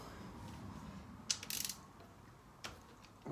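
A 17 mm ratchet clicks in short bursts while unscrewing the drain bolt under a dirt bike, quiet and close against a low background hum.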